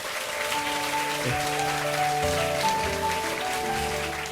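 An audience at a climate leadership talk concert gives steady applause to welcome guests, a dense, even patter over sustained background music.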